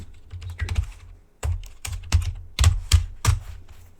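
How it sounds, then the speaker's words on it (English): Close, crisp clatter of computer keyboard typing in irregular bursts, with short pauses between flurries of key presses. "Am I typing too loud?"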